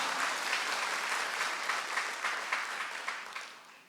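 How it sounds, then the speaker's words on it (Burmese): A church congregation claps in praise, a dense, steady round of applause from many hands in a worship hall, fairly loud and sustained throughout, slowly fading toward the end with no talk over it. "လက်ခုပ်တီးတဲ့အာဘဘုရားကိုချီးမွမ်းရအောင်"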